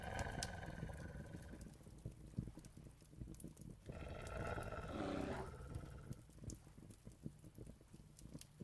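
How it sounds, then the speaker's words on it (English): Wolf growling in a video game, a very faint low rumbling growl that swells and fades under background ambience, with no speech over it. "I want to kind of kill that wolf just so I can stop hearing it growl."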